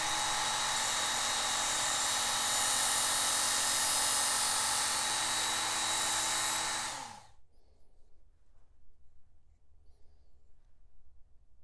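Work Sharp Ken Onion Edition knife sharpener running with an extra coarse belt, a loud steady high-pitched motor whine with belt hiss for about seven seconds before it cuts off abruptly, leaving near silence.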